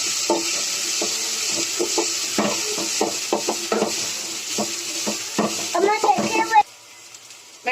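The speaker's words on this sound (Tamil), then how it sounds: "இப்போ கட் பண்ணி வச்சிருக்க வெங்காயத்தை போட்டுக்கலாம்." Chopped onion goes into a pan of hot oil already holding popped mustard seeds, green chillies and curry leaves, sizzling while a spoon stirs and scrapes in short strokes; a voice talks over it, then the sizzle cuts out near the end.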